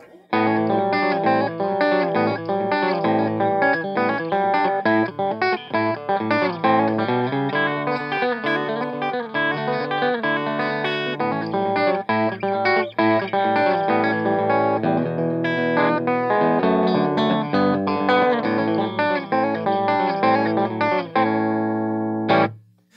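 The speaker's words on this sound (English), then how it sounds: "a little finger picking thing that gives you an idea of how kind of country and chicken picking sounds on this instrument" Country-style chicken picking on a Reverend Club King 290 electric guitar: busy, snappy single-note runs and double stops played continuously and up front, with no talking.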